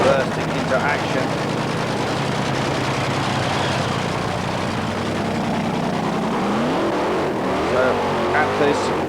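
A 4,000 brake horsepower nitro dragster engine at the 1992 Hockenheim Nitro Olympics roars steadily and loudly through the whole stretch, rising in pitch near the end as crowd and commentary mix beneath it.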